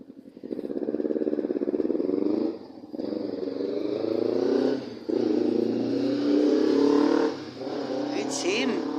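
A motorbike revs in the rain at night, its loud continuous engine drone rising and falling close by for several seconds, with a voice talking over it.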